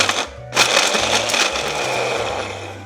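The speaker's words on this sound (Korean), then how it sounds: "자, 덮어놓은 황태를 믹서기에 넣어주세요." A blender roars and grinds loudly after a brief click, crunching through dried pollack with choppy, pulsing bursts of rattling and whirring.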